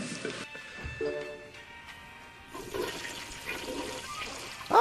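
A comedy toilet flush sound effect from the Sam & Max Culture Shock video game gurgles and swirls for a few seconds, fairly quiet, ending in a brief louder burst.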